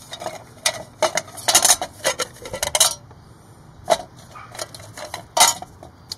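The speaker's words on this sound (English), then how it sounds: "I have a little bucket here for all my screws so I don't lose them" Small metal screws from a 2006 Dodge Magnum headlight drop into a little bucket, making a series of bright metallic clinks and rattles, clustered at first and then sparser.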